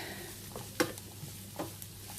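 Vegetables for gluten-free pasta with hummus sizzle softly in a pan, with a steady low frying hiss and a couple of faint spatula scrapes standing out, close but quiet.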